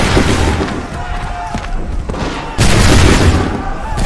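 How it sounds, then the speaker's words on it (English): Gunfire volley in the video game Assassin's Creed III: dense, booming musket blasts and battle din fill the clip, with a sharp louder surge of firing about two-thirds through, voices shouting faintly underneath. "Open fire."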